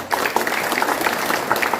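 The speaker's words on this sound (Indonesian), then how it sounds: "Tepuk tangan untuk Mas Didik" A crowd applauds at a political constituency meeting and induction ceremony in Brebes, steady, dense clapping from many hands, loud and close throughout.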